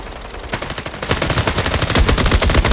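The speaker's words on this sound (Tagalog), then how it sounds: "ang lapit naman ng baril nila, ang lakas" Rapid machine-gun fire from a PinoyTW video game rattles in loud, continuous bursts, growing heavier and denser after the first second with no talk.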